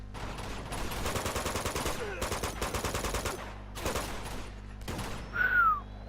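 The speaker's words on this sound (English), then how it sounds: "I can hear them shooting. And I'm being shot at now" Rapid bursts of enemy gunfire in Uncharted 2, mid-distance, with automatic rifle volleys repeating in clusters across the whole stretch, brief lulls between them, and a whistling projectile sweep near the end.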